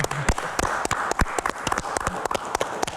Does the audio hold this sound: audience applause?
yes